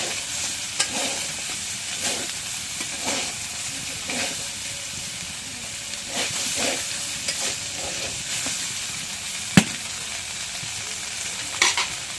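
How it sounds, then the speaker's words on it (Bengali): Meat frying in a pan makes a steady, bright sizzle for the whole stretch, with repeated soft stirring scrapes and an occasional sharp clink of a utensil, close and fairly loud, with no voices. "এখন মাংসটা অনেকক্ষণ ভাজলাম ভাজা হয়েছে এখন নামাই"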